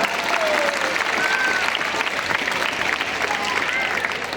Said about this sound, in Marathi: आपल्या आई वडिलांच्या साठी आणि गुरुजींच्यासाठी जरा जोरात टाळ्या वाजवा बर का